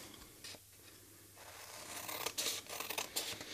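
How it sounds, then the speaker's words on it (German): Large scissors cut through paper along a fold line while a gift bag is made, giving a few close, crisp snipping and scraping bursts in the second half after a quieter start. "Das geht am besten mit einer großen Schere."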